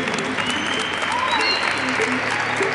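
An audience at a school sports programme's end-of-year closing ceremony applauds loudly and steadily, a dense crowd of clapping with voices mixed in and faint tones over it.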